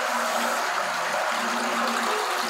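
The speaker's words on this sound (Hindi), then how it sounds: "अभी देखिए इसको मैं अभी फ्लश करूँगा, फ्लश करने के बाद ये किस तरह का पानी का साउंड आता है।" A toilet cistern being flushed gives a steady, close rush of running water with a faint tonal hum, holding at an even level throughout.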